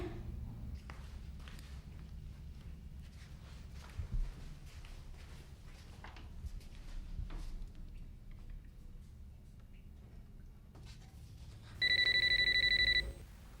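A phone rings near the end, a loud electronic trill following quiet room noise with occasional soft shuffling and footsteps.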